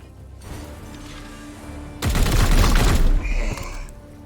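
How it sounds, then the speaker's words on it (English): A close, loud burst of rapid gunfire erupts in the Warhammer 40,000 tactics game Chaos Gate - Daemonhunters, about a second of dense shooting over a low game-ambience hum, followed by a short high-pitched effect tail. "You're going to shoot the Plague Bearer."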